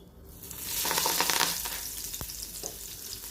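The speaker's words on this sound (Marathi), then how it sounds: "आता तेल तापलं की यामध्ये थोडीशी मोहरी घालून घ्यायची आणि कढीपत्ता घालून घेणार आहे." Mustard seeds and curry leaves hit hot oil in a kadhai, setting off a loud burst of sizzling that swells, then settles into a softer, steady fry with a few sharp pops and crackles.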